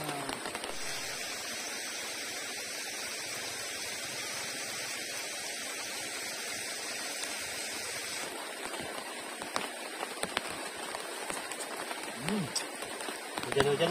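Heavy rain pours steadily on a bamboo shelter at a campsite, a dense continuous hiss with scattered louder drips and taps toward the end.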